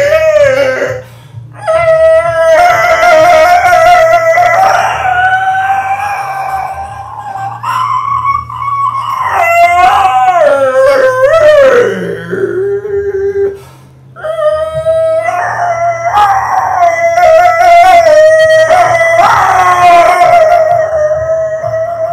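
A voice imitates a limbe flute by singing on an inhaled breath with added noise, producing long, breathy, wavering flute-like tones. The passages are loud and close, with brief pauses between them.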